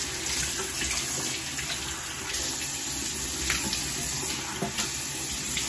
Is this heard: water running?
yes